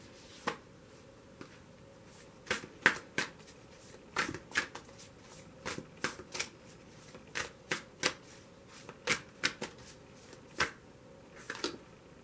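Tarot cards are shuffled close by in a steady series of crisp riffles and snaps, spaced about a second apart against a quiet background.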